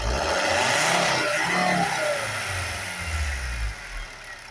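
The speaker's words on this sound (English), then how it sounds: "You gotta love the sound of a 5-cylinder diesel." A Volvo V70 five-cylinder diesel engine idles and revs with a gruff, low rumble, close up and rising then settling; no voices.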